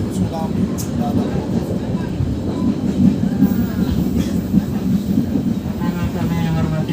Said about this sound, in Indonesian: kereta api Komuter Merak sudah tiba dan berhenti di stasiun akhir Merak